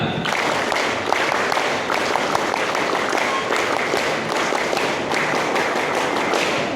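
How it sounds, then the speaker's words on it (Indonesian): Scout members at a West Java Pramuka regional working meeting clap a rhythmic Pramuka pattern twice: dense, sharp, patterned hand claps from many people, loud and close, filling the space continuously. "Dua kali tepuk Pramuka"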